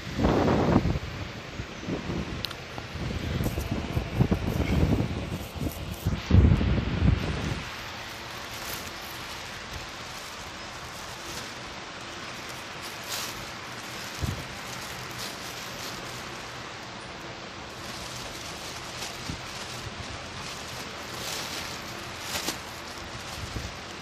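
A solar DC table fan set to its top speed blows a steady, airy whoosh, loud and gusty at first before settling into a softer, constant rushing hiss.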